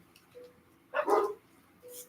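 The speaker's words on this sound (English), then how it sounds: "There's a dog" A dog gives a quick burst of two or three yappy barks at moderate distance, with faint whines or squeaks around them over a quiet room background.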